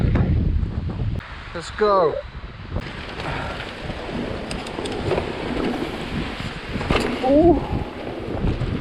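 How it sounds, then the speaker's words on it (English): Strong, gusty wind buffets the microphone at a mountain top, a constant broadband roar with surges throughout, while a person speaks briefly and exclaims over it. "It is really, really windy."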